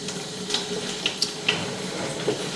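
Water trickling and splashing down a drain pipe at a house, a steady wash broken by a few small drips and plinks, with no talking.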